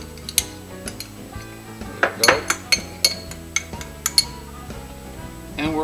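A utensil stirring Dijon and whole grain mustard together in a bowl gives a run of clinks and scrapes against the dish, close and moderately loud, with irregular taps and no talk.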